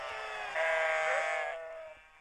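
A single long, wavering goat bleat, loud and close, swelling in the middle and trailing off, heard alone.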